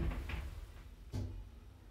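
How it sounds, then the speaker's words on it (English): Lift doors at a retail park slide shut, a quiet low rumble with a soft thud partway through, set against faint mechanical hum. "Doors closing."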